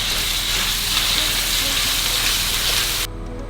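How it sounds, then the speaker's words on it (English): Minced meat fries with browned onions in a pan for pastitsio, a loud, dense sizzle that fills the clip and drops in volume abruptly near the end. "it is now time to add the mince to the onions. You should always use a fork to break up the mince."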